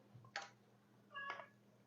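A pet cat meows twice in a quiet kitchen, two short separate calls about a second apart, moderately near, with a faint ticking in the background.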